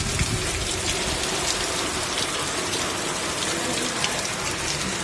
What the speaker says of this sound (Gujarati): વરસાદ તો જો